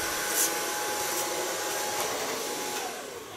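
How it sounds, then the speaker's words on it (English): A hair dryer blows steadily while hair is blow-dried, a continuous airy whoosh with small shifts in pitch as it moves, then easing slightly at the end. "So far, blow drying."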